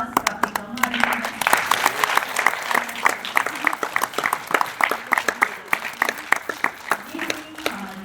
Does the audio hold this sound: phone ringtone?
no